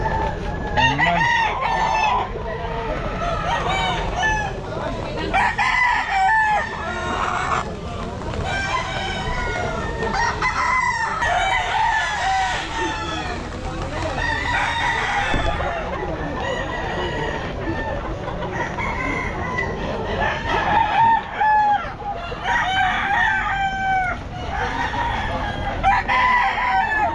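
Kelso gamefowl roosters crowing repeatedly at a busy pet market, several birds overlapping with loud cock-a-doodle-doo calls and clucking throughout, with crowd bustle beneath.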